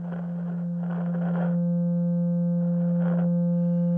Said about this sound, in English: Okay, I've got a tone.